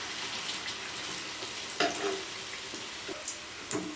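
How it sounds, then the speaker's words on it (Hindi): Bread pakora frying in oil over a low flame, a steady soft sizzle throughout with a few light pops and clicks near the pan, no voices. "अब हम बिल्कुल स्लो आंच पे इसको फ्राई कर लेंगे।"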